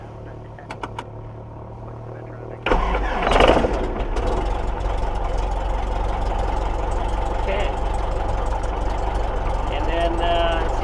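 A small single-engine piston aircraft's engine cranks and catches, then settles into a steady, loud idle close by, with brief speech before the start and a continuous low rumble afterward.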